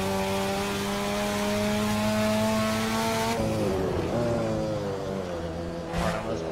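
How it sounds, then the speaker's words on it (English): A car engine in the Assetto Corsa racing game revs high and steady in a loud, sustained harmonic whine, then drops pitch sharply as the driver shifts and brakes hard, with a brief tire squeal near the end. "So, we'll let this thing rev as high as we can."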